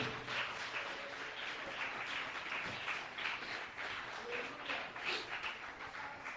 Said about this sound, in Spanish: Puede aplaudirle a Él con fuerza esta noche.